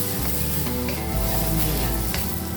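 Onion hitting hot oil in a pan for tukwa with chili sauce sets off a loud, steady sizzle that fills the whole moment, with a sharper crackling burst as the pieces land and no voices.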